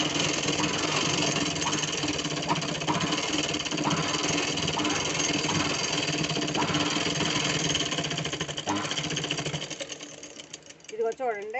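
A sewing machine stitching in a fast, steady, even whir, loud and close, under someone talking, slowing and stopping near the end.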